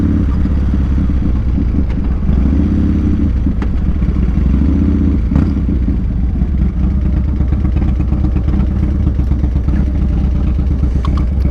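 Motorcycle being ridden down Sherman, a loud, continuous engine drone with low rumble and shifting pitch throughout, close up and without talk.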